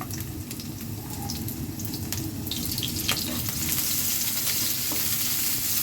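Chopped onion frying in a little oil, a close, continuous sizzle and crackle with occasional light stirring scrapes, steady throughout and with no voices.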